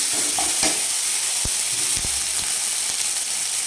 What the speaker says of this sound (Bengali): টমেটো দিয়ে আমি সুন্দর করে মেরে নিচ্ছি